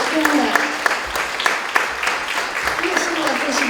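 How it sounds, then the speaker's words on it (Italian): Applause from a crowd at the opening of an art exhibition on Andrea Mantegna in Piazzola sul Brenta, with steady clapping throughout and a voice speaking over it. "dobbiamo fare un grande applauso"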